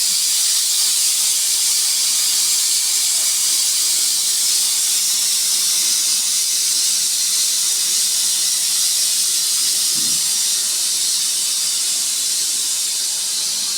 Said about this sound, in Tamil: இருந்தாலும் அதில் ஆவி வருது பாருங்கள்.